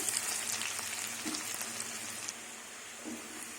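Chopped onion and garlic fry in oil in a pan for a mung and masoor dal dish, making a steady, soft, close sizzle with light crackles throughout and no talking.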